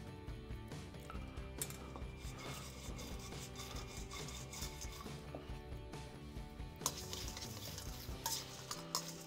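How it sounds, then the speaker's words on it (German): Spoon stirring and tossing grilled fried potatoes with bacon, garlic, rosemary and thyme in a pan, with steady scraping, clinking and rubbing strokes throughout, fairly faint. "Alles schön vermengen."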